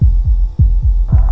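Pounding low heartbeats in a horror video game signal an approaching clown: about five close, loud thumps at a quick even pace over a constant hum.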